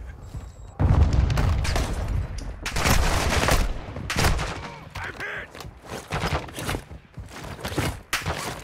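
Video game gunfire in a military squad shooter, with bursts of shots and booms arriving in irregular clusters, loud and close. Brief bits of voice come through between the bursts.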